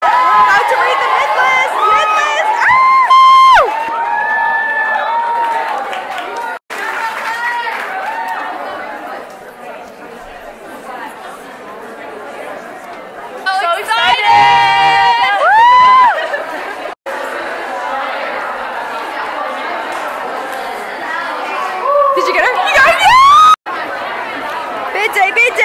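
Loud, lively crowd of university students at a sorority bid day at the University of Alabama, with constant overlapping chatter and shouting, bursts of cheering and high squeals rising throughout.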